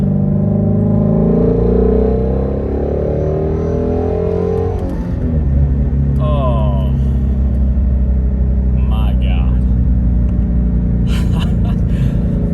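A loud, deep Ford Mustang Shelby GT350 engine rumbles and revs up and down nearby, with a person briefly exclaiming over the roar.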